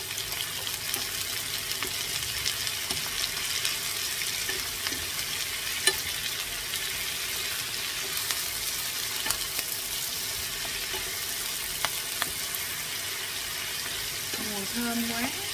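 Clams stir-fried with garlic and flowering chives sizzle in a hot pan, a loud, continuous frying crackle with faint clinks from stirring throughout.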